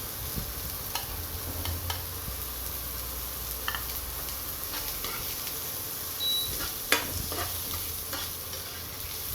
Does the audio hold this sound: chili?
yes